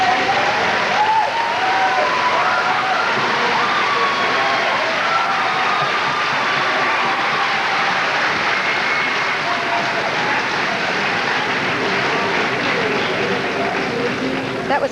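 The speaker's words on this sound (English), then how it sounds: "That was quite a nice cheer." Audience at a 1984 secondary school commencement ceremony cheering and applauding its graduates, a dense, sustained wash of clapping and voices that stays steady and fairly loud throughout.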